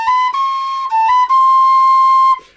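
A Weston pistachio wood whistle sounds a cross-fingered C, a bright sustained tone held about two seconds with a brief dip and slight pitch shift partway, close and loud with no other sound.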